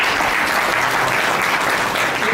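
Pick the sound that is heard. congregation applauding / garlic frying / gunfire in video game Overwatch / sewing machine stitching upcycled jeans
congregation applauding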